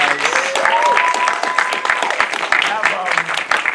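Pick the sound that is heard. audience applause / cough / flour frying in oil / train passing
audience applause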